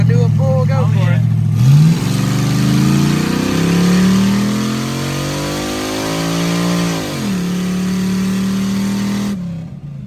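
A Chevrolet 5.3 LS V8 in a car revs hard through a pull, its loud engine note climbing, dipping and climbing again, with talking inside the car underneath.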